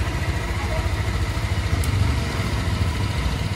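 A motorcycle readied for a family trip runs near at a steady idle, its engine making a constant low chugging rumble throughout.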